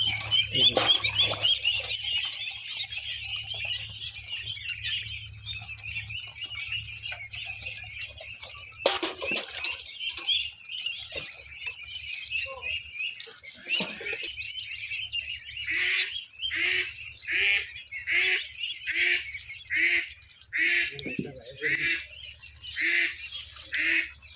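Domestic ducks feed eagerly on moistened feed, giving scattered nasal calls at first and then a steady run of repeated quacks and honks, fairly close and loud, with no talking.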